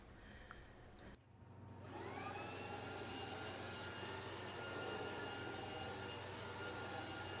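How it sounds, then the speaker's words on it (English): A vacuum cleaner switches on in a living room after a brief click, whirring up to a loud, steady, continuous drone that carries on alone to the end. "Last thing I have to do is just vacuum the living room up"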